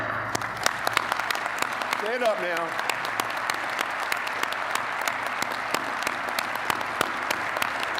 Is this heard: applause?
yes